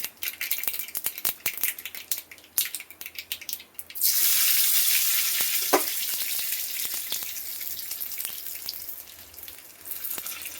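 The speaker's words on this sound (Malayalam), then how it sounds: "വെളിച്ചെണ്ണ അടപ്പത്ത് വെച്ച് കടുക് പൊട്ടിക്കാൻ പോവുകയാണ്" Mustard seeds sputter in heated coconut oil: a few scattered clicks and taps first, then a sudden loud, steady frying sizzle that carries on with occasional pops.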